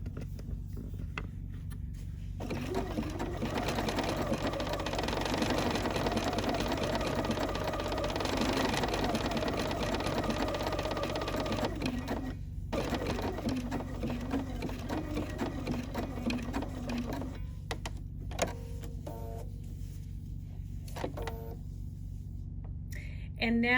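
A sewing machine runs a decorative stitch along an appliqué edge on a stitched postcard, a steady close mechanical whirr that pauses briefly and resumes, with a person speaking over it.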